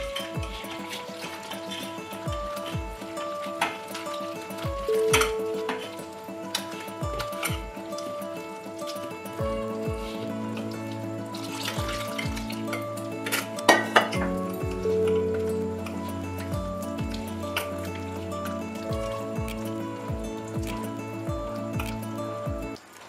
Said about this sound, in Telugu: వాటర్ తో కలుపుకోవాలి